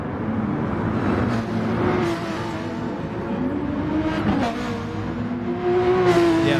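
Race cars drive in an exhibition event, engines droning and revving with rising and falling pitch as cars pass, steady and moderately loud with a faint tire squeal, no talk.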